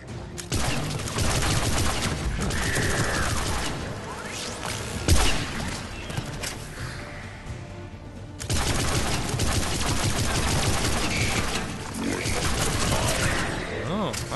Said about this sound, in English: Try out that new arc pistol.